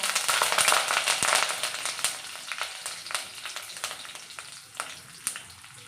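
Mustard seeds, cumin and curry leaves crackle and spit in hot oil, with dense, rapid pops that burst loudly at first and then thin to scattered snaps over a steady sizzle, close up and with no voices.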